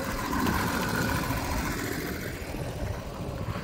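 A Predator 224 engine on a longtail mud motor idles on the water, a steady rough mechanical rumble with a continuous broadband drone, moderately close and unbroken throughout.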